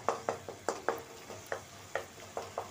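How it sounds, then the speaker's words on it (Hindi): Tomatoes and masala fry in a kadhai as a spatula works through them in quick, regular scraping strokes, about a dozen faint taps and scrapes over a low sizzle. "मैं टमाटर को अच्छी तरह से कर रही हूँ, इस तरीके से सॉफ्ट हो जाए, मसाला भी अच्छे से हमारा भुन जाए"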